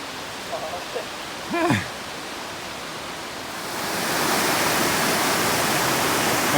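A shallow stream at a water crossing in the Shining Rock Wilderness rushes as a steady hiss that grows louder and fills the scene after a short voice early on.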